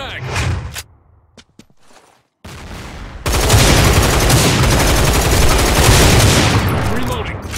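Gunfire in the free-to-play FPS game Line of Sight: a few close shots and clicks, a short lull, then a loud continuous automatic barrage, with a player shouting over it.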